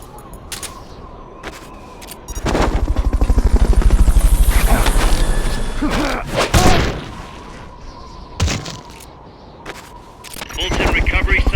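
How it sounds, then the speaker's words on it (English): Helicopter for Fulton recovery in the Metal Gear Solid Peace Walker video game, a loud continuous rotor drone in the middle, broken up by sharp bursts of game effects and short gaps. "Fulton recovery subject confirmed onboard helicopter."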